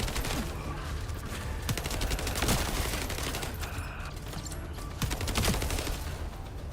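Rapid gunfire from a shooter video game, The First Descendant, rattling on continuously in dense bursts with sharp cracks throughout and no talking.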